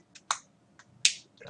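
A few sharp, quiet clicks in irregular succession, close up, like a computer mouse being clicked while working in Blender 2.60, with no talking.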